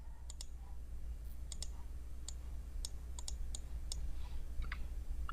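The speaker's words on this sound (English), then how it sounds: "I'm going to click on New Query" A computer mouse clicks about a dozen times in an irregular rhythm. The sharp clicks are quiet and close, with no talking.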